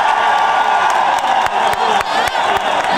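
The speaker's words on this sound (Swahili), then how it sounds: "Pigeni makofi." A large political rally crowd in Kisii, Kenya, claps and cheers loudly, with whoops and shouts rising over the applause in a dense, continuous roar.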